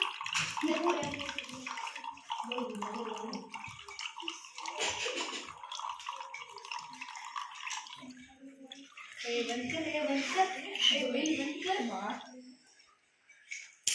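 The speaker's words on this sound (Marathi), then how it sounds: "मी याच्यात पाणी टाकले की पाणी खाली जाते" Water is poured, splashing and gurgling as it drains down, while a person talks over much of it.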